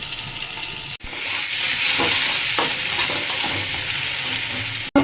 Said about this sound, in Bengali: এবার আমি তেলের মধ্যে পেঁয়াজটা ভেজে নেব।